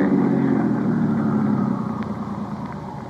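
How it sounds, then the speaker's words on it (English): A car engine idles close by with a steady mid-pitched rumble that eases slightly in loudness toward the end, with no voices over it. "Just leave the engine running"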